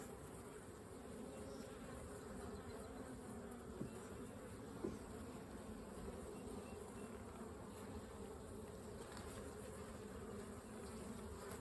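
Honeybees buzz steadily in an open hive during a spring check, a dense continuous hum close by with a faint tap or two and no talking.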